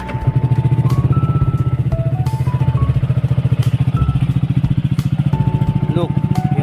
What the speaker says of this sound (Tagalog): Okay, engine on.